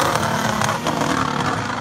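A Honda RA621H Formula 1 power unit in a Red Bull racing car gives a loud, sustained high-pitched engine howl, held steady and close without any talk.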